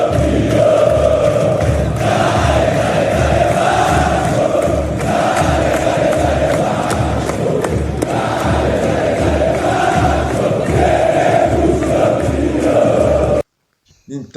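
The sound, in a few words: Vasco fans chanting at training, crowd of over 10,000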